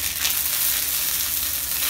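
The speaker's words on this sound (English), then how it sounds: "How you tell if Kalonji is fried, because it is black, then it's by the smell." Kalonji seeds frying in hot ghee, giving a continuous dense sizzle and crackle, close and steady throughout.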